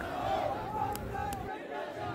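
Crowd of advocates and law students hooting and chanting at a High Court Bar Association election in Jaipur, Rajasthan; a steady, dense babble of many voices with a couple of brief sharp shouts, close and continuous.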